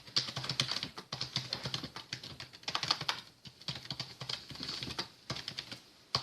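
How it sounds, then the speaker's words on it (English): Quick bursts of keystrokes clicking on a keyboard, close by, with short pauses between runs. "Let's see if I can just type this into YouTube real quick."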